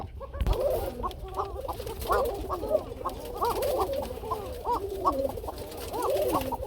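Arabian pigeons kept for sale coo continuously, a dense overlapping chorus of soft rolling, repeated coos from several birds close by, with no talk.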